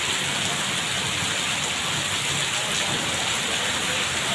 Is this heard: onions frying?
no